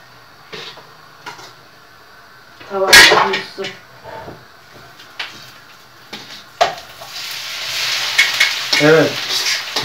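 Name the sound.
frying green beans with flour and egg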